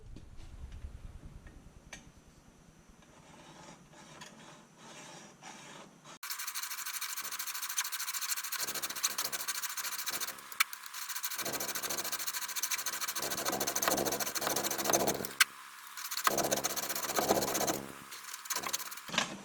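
A hacksaw cuts through a Jeep Cherokee shock absorber in long, steady rasping strokes. The sawing starts after a quieter, muffled opening and continues loud and close, with short pauses between runs of strokes.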